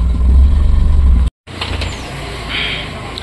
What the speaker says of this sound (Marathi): ते रिव्हर्स मध्ये गाडी टाकतो